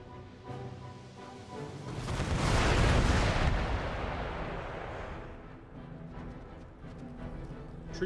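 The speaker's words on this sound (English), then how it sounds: "Artillery just drop shells into the breach." Artillery shells fire and burst in an Empire: Total War battle, a dense swell of booming blasts peaking mid-clip over steady battlefield rumble, then easing back to a busy, crackling din.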